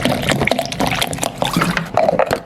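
Water pours into a grinder jar holding yogurt and gram flour (besan), about a litre going in as a steady, close splashing fill with shifting gurgles.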